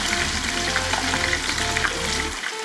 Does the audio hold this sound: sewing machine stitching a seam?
no